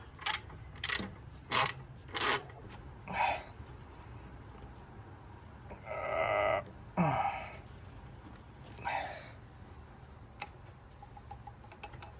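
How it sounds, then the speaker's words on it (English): Wrench working a stubborn tension nut loose on a Jeep Cherokee during a power steering pump replacement, heard as a few sharp ratcheting clicks and metallic clanks in short bursts, followed by scattered scraping and clunks at close range. "I had a hard time getting to the second tension nut, so I had to use a wrench, but I finally got it loose here"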